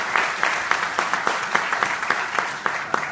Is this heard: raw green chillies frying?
no